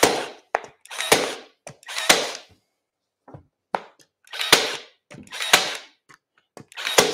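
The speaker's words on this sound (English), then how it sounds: "I'm just adding some extra staples because now I know that it's where I want it to be" Staple gun firing repeatedly into fabric on an upholstered trunk: sharp, close snapping bursts in an irregular rhythm with short pauses, heard alone.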